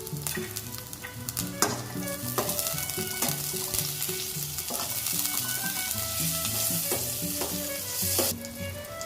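Whole spices, curry leaves and a cut green chilli spluttering in hot ghee and oil for dal, a loud close crackling sizzle with sharp pops and scraping stirs throughout, no voices.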